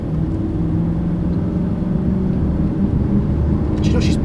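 Steady low car engine rumble as the vehicle climbs a hill at around 30 mph, heard from inside the cabin at constant loudness with a brief hiss near the end.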